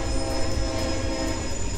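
A pair of GP diesel locomotives hauling an empty local freight uphill drone steadily with a deep rumbling engine and continuous wheel noise, loud and close, with no talk.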